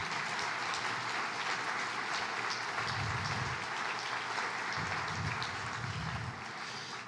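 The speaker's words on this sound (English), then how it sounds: "Let's give them a big round of applause." An audience at a State of the City and County address applauds county team members as they stand, steady continuous clapping that fills the room without a break.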